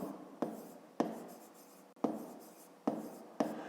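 Pen or pencil strokes on paper while a fifth-grade maths solution is written out by hand, a series of sharp close scratchy taps every half second or so, each trailing off, with no talking.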